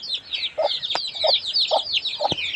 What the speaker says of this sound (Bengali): যখন মুরগিগুলো আসতেছে আমাদের দেখে মনে করছে যে খাবার দিব